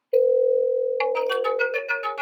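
A GrandCare touchscreen system places an outgoing call: a steady tone sounds first, then a rapid warbling ringing pattern layers over it, loud and close, with no talking.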